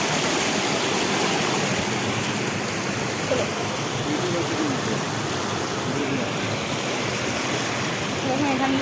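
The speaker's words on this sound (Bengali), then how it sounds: "দেখুন এখান দিয়ে জলটা যাচ্ছে" Water rushes past the Panchalingeswar temple at Balasore in Odisha, a loud, steady, close stream-like roar that holds without a break, with faint voices now and then underneath.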